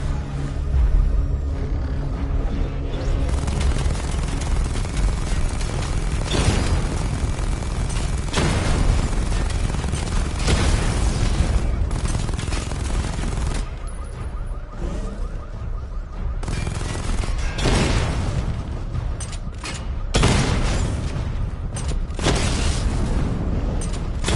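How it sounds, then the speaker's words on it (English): Missile barrage explosions in the Batman Arkham Knight video game form a dense, continuous roar of booms and blasts with whooshing launches and repeated heavy impacts, loud and sustained throughout. "Destroy targets to charge up weapon energy and activate missile barrage."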